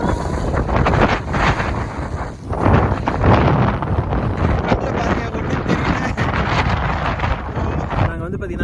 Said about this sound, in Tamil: இங்கே கொஞ்சம் லைட்டாக தான் அடிச்சிட்டு இருக்கு காற்று.